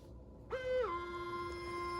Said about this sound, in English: you hear that, you see the laces tightening